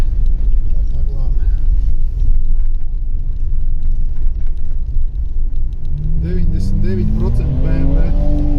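A BMW car drives past with a steady low engine rumble throughout, rising into a revving engine tone near the end, while people talk over it.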